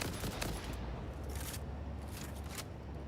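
Dense rapid gunfire in a video game: a continuous, fairly quiet rattle of overlapping shots with brighter bursts, lasting the whole short span with no voices.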